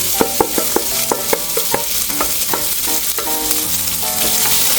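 Onions and bacon frying in a pan, a steady loud sizzle with repeated scraping and stirring taps from a spoon throughout.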